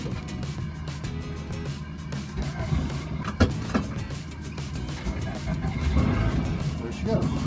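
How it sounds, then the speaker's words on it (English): Camper bus engine turning over from a cold start and settling into a steady low idle rumble, with a brief louder surge partway through; a person talks over it. "we'll do a cold start on the bus"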